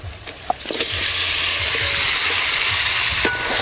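Chicken pieces dropped into fried spice masala in a village-style kitchen pan, a loud steady sizzle and hiss that swells after a few clattering stirs and carries on strongly to the end.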